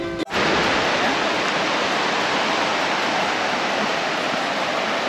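Veiharuru waterfall in Polynesia roaring as a loud, dense, steady rush of falling water from close by, starting after a brief cut at the beginning and continuing unbroken without talk.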